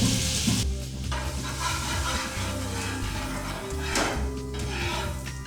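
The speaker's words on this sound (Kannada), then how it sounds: "ಬೆಣ್ಣೆ ಹಾಕಿದ ತಕ್ಷಣ ಅದನ್ನು ಸ್ವಲ್ಪ ಎಲ್ಲ ಕಡೆಗೂ ಸ್ಪ್ರೆಡ್ ಮಾಡ್ಕೋಬೇಕಾಗಿರುತ್ತೆ" Butter melting and sizzling in a hot pan while being spread around before bread is fried for Mysuru Egg Palace style French toast, a steady close hiss with a low hum and a couple of soft utensil scrapes.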